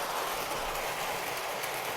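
Lionel toy train engine pulling a train set around a Halloween layout, a soft continuous rolling rumble and rattle of small wheels on track, close and steady with no talk.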